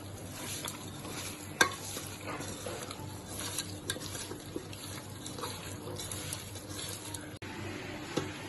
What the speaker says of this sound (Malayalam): നമുക്ക് കൈ കൊണ്ട് നല്ലോണം മിക്സ് ചെയ്യാം